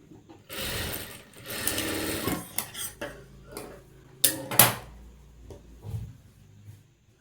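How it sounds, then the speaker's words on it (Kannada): A sewing machine stitches a frilled sleeve in short, uneven bursts of whirring, broken by clicks and the clatter of handling fabric and tools close by, with no talking. "ಈ ರೀತಿ ಫ್ರಿಲ್ ಕೊಟ್ಕೊಂಡು ಸ್ಟಿಚಿಂಗ್ ಮಾಡ್ಕೊಳ್ಳಿ"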